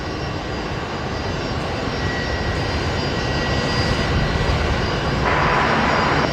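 A Rex Airlines airliner arriving at Brisbane Airport gives a steady, loud engine roar that swells slightly toward the end, with no talk over it.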